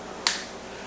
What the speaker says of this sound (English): Rocking back and forth, you snap with your fingers.